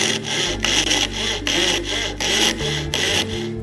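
A coping saw cuts wood clamped in a vise with steady, evenly spaced back-and-forth rasping strokes, close and fairly loud, with no voices.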